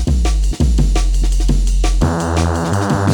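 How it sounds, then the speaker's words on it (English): A deep, dark synth bass drones low and thick, pulsing in repeated hits before switching to a brighter, buzzier sustained tone. "what I want here is that deep and dark subby kind of Hoover"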